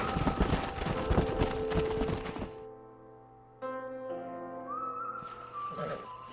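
A horse's hooves clip-clop steadily in the Red Dead Redemption game, then the scene drops to quiet music and a soft whistle-like tone before the hooves and ambience return.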